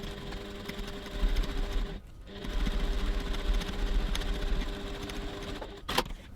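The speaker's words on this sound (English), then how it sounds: "So now I'm going to stitch 3 millimeters 1/8 of an inch from the seam on the back body B side" A sewing machine stitches a seam on a crossbody bag in steady whirring bursts with a brief pause, close and moderately quiet.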